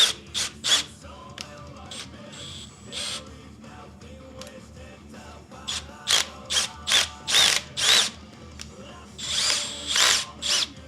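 Power screwdriver set to reverse, straining on a screw it won't loosen: a run of short ratcheting whirring bursts in close succession, nearby, with brief pauses between them and no talk.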